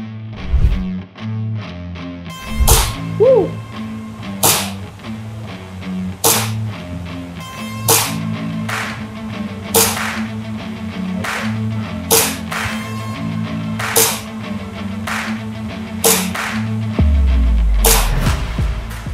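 Sharp repeated airsoft gun shots cracking out every second or two over a steady musical backdrop, loud and close, at an indoor war-game venue.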